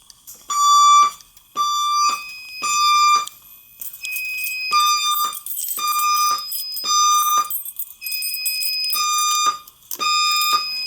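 A Simplex fire alarm sounds during a pull station test, its repeated loud bursts of piercing electronic tones pulsing in a steady rhythm with short gaps between them, close and alone.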